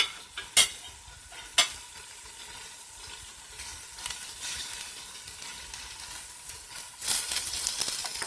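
Minced garlic dropped into half-cooked ground beef in a pan for lasagna sauce, giving a steady, moderately loud sizzle with a few sharp utensil clicks near the start and a brighter crackle toward the end.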